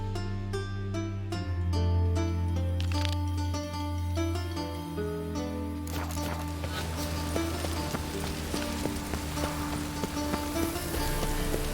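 Steady rain patters on a surface in The Witcher 3: Wild Hunt, with tonal music and occasional clopping sounds mixed in, a constant wet hiss beneath.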